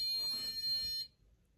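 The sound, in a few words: alarm going off from a sensor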